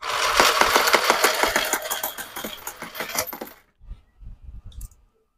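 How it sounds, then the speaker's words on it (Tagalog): A coin changer pays out coins from its hopper in a fast rattling stream of metallic clinks with a motor whir, then stops, and a few softer clatters of coins settling follow. "So, i-demo ko ngayon sa inyo itong coin changer ko. Meron itong coin slot, controller, at hopper."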